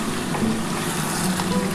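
Spice-coated chicken being sautéed and stirred in a pan, a steady close sizzle and crackle, continuous and even, with no voices over it.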